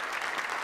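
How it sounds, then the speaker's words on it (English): Brief burst of audience applause for the Queen and her court at the City of Destiny Awards, a dense continuous patter of many hands clapping. "let's give a round of applause to the Queen and her court there"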